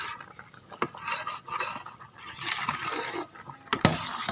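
A metal spoon adds sugar to a pot of gajrela kheer, giving light scraping and stirring sounds with a few sharp clinks against the pot.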